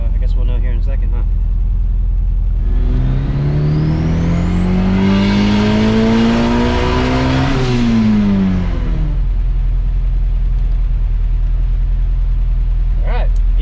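A turbocharged Honda Prelude with an H22 engine running on 93-octane pump gas revs up in one long rising pull, then drops back to idle, loud and close over a steady droning background.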